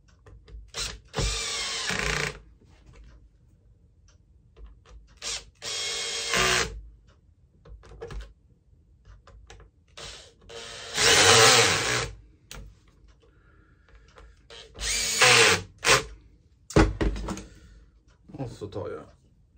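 A power drill drives screws while a roof exhaust fan motor is fitted, whirring in several short bursts up close, with someone talking between them.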